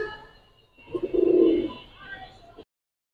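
Giribaz and coloured pigeons at a pigeon sale give a single close, soft cooing call that swells and fades, with quiet surroundings before and after.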